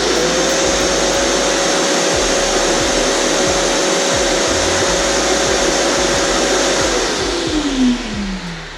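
A Ridgid wet/dry shop vacuum runs loud and close, a steady whining motor roar with airy rushing noise that holds for about seven seconds before the pitch drops as it winds down.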